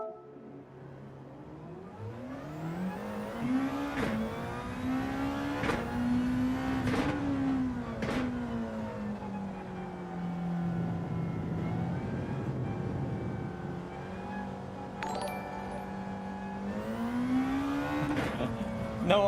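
A Nissan GT-R race car engine in Gran Turismo 7 drones steadily and revs through rising and falling pitch sweeps, with sudden shifts between gears, sustained and moderately loud throughout.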